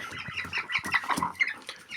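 A rooster and hens clucking and squawking up close in quick, busy bursts on a frosty winter day, no talking.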